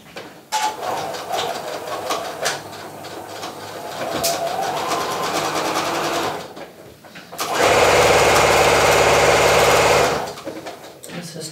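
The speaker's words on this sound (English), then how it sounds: "I'm going to start stitching in the back tack." A sewing machine stitches a back tack on knit fabric for a nursing cover, whirring steadily and close, then surging into a louder, faster run before slowing again.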